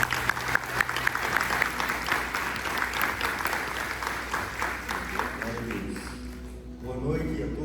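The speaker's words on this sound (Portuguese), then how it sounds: "Quero que com muita alegria você receba com uma salva de palmas" A church congregation claps steadily for several seconds, a dense patter of applause that thins out toward the end as a pastor begins speaking.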